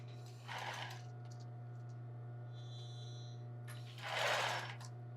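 A sewing machine stitches an embroidered tulle bra in two short bursts, one early and one near the end, over a constant low electrical hum in a quiet room.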